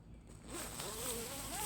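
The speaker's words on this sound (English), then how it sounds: "These are very smooth operating zippers." Zipper on the screen door of an Ozark Trail 8-person cabin tent drawn open in one smooth, continuous close pull, fairly quiet, with no talking.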